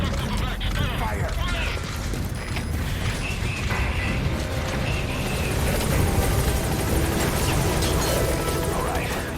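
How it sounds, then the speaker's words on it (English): A helicopter arrives in the video game Metal Gear Solid V, its rotor and engine roar forming a dense, steady wash of sound that fills the clip, with mechanical creaks and clatter layered over it and a voice heard under the noise. "I'll send the chopper."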